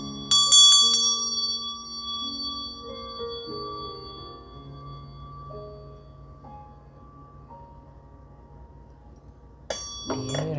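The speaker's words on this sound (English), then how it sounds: "I'm going to ring my meditation bell" A meditation bell struck several times in quick succession, its bright metallic tone ringing out clearly and fading slowly into long, shimmering sustained overtones, with one more strike near the end.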